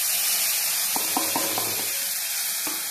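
Ground tomato paste going into hot oil in a pan for a home-style fish curry, giving a steady, fairly loud sizzling hiss throughout, with a few brief tonal ringing sounds partway through. No one speaks.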